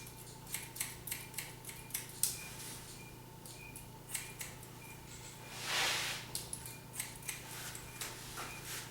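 Scissors snip repeatedly while trimming hair down the back of a blended mohawk haircut, a steady series of short, crisp cuts over a faint electrical hum, with no talking.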